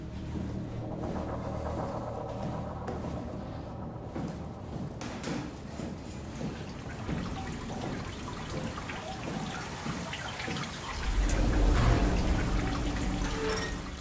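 Steady rushing water in the video game SOMA flows continuously, a dense watery wash that swells louder near the end, with no voices.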